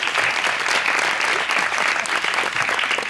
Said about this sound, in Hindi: कितनी बड़ी बात की। तालियां।